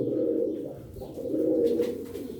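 Tumbler pigeons kept in a loft, giving a low, soft, continuous cooing close by, with no voices over it.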